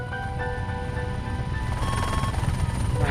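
A French Air Force helicopter on an air-policing interception mission gives off a steady, loud, close rotor and turbine drone, the rotor thumping evenly throughout.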